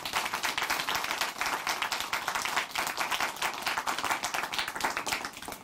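A studio audience claps together in a dense, sustained round of applause at a Korean Christian broadcast, steady and close throughout with no voices over it.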